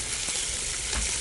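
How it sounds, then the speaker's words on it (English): Nantucket Bay scallops sear in a very hot pan, giving off a loud, dense, continuous sizzle heard up close without any voices. "Oh, that's a nice sizzle."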